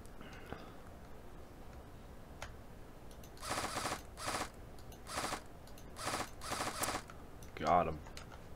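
An airsoft gun in the Operation Airsoft video game fires in short bursts, several sharp clusters of rapid shots separated by quiet pauses, with faint mechanical clicks between.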